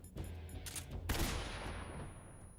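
Game gunfire from Metal Gear Solid 3, with several sharp shots in quick succession and a louder blast near the middle that trails off into a noisy decay, no voices.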